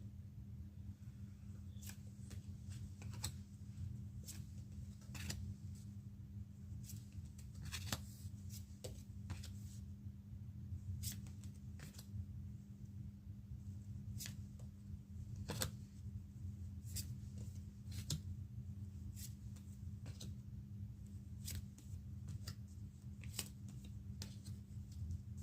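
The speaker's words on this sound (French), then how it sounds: "on va essayer de tirer quelques cartes sur ce désaccord et de conflit" Tarot cards being shuffled and drawn, a run of sharp papery snaps and flicks at irregular intervals over a low steady hum, with no talking.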